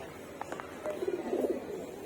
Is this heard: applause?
no